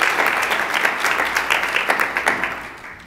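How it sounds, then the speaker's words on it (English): A conference audience applauds two guests who have just been introduced and asked to stand, a dense, steady patter of many hands clapping that fades toward the end. "And they need a round of applause."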